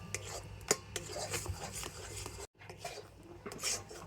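Jackfruit seed paste is stirred into water with a utensil, making soft, close scraping and clinking against the pot, with one sharp tap and a brief pause.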